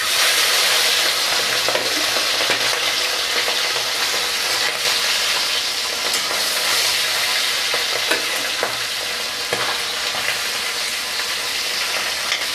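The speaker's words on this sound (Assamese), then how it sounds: "তেতিয়ালৈকে মই মাছখিনি ফ্ৰাই কৰিম" Striped dwarf catfish fry in a pan of oil with a loud, dense, continuous sizzle and fine crackle that stays steady throughout, close up and with no talking.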